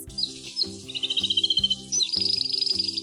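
A canary sings a bright, rapid warble of trills and chirps over soft background music, with no voices.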